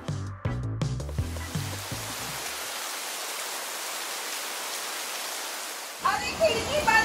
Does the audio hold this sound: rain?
yes